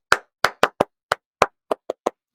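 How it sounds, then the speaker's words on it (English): Students clap for a classmate: about nine sharp, separate hand claps at an uneven pace, close and fairly loud, with silence between each clap. "so they will be clapping for you"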